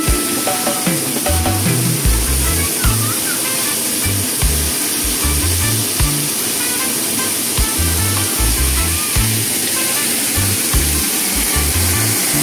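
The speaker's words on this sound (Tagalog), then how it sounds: "Mahina pa ba yung tubig na yan?" Water flows in a continuous hissing spray, with a string of heavy low thumps recurring irregularly beneath it, close and loud, without speech.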